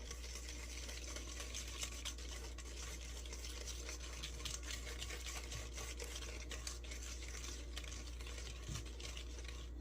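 Liquid muffin ingredients with vanilla and lemon juice being stirred together for lemon zucchini muffins, a continuous close scraping, swishing mix under a steady low hum, with no talking.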